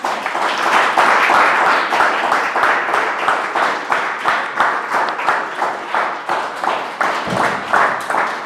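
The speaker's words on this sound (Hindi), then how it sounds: "क्या परमेश्वर की महिमा के लिए ताली बजा सकते हैं?" A congregation at a church service claps in unison, producing loud, steady rhythmic claps at roughly two per second that continue throughout.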